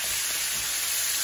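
Beef tenderloin steaks sizzle loudly in a hot pan, a steady close broadband hiss with no break.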